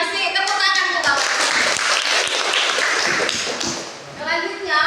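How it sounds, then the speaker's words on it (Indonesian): A crowd claps for a speaker at an Indonesian school or civic talk, a dense patter of hands running steadily through the whole stretch and dipping briefly near the end before swelling again. "Tepuk tangan untuk Bapak."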